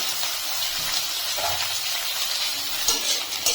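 Grated ginger, chopped tomato and green chili hit frying onions in hot oil, making a loud, continuous hiss and sizzle with occasional stirring knocks near the end and no speech.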